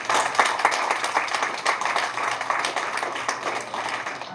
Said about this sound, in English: let's give a round of applause to our brothers and sisters